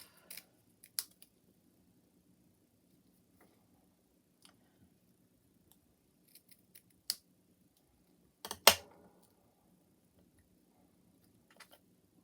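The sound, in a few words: scissors cutting a paper die-cut sword piece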